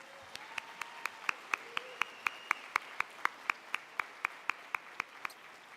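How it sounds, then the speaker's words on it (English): A single pair of hands claps in an even, steady rhythm at a civic State of the City event, about three to four crisp claps per second, moderately close, with a faint tone lingering beneath. "Okay, now clap."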